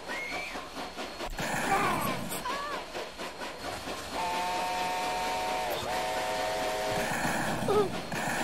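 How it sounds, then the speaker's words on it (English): Moving train in a LaserDisc shooting video game, with steam-whistle-like tones and rail rumble playing continuously, sustained whistle notes in the middle, at moderate loudness amid game effects. "They're on a moving train."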